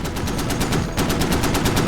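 Rapid bursts of automatic gunfire from the video game Squad, rattling steadily with a brief dip midway before resuming.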